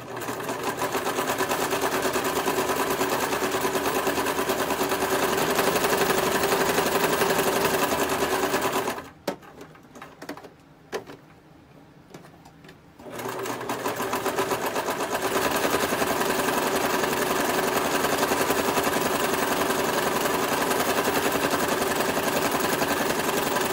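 A sewing machine stitches around the edges of fabric napkins with a loud, steady mechanical whir. It pauses for a few seconds at a corner, with brief clicks, then runs continuously again.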